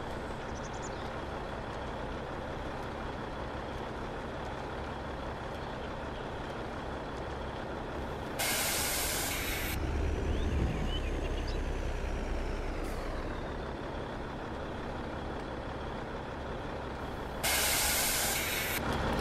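A truck's air brakes in the Farming Simulator 22 video game release two loud, sharp bursts of hiss, about nine seconds apart, over a steady low engine rumble. No one speaks.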